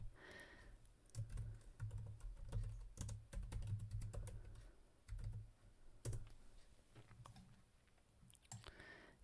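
Typing on a computer keyboard, with a steady run of quiet, close key clicks and taps that continue for several seconds, no voice present.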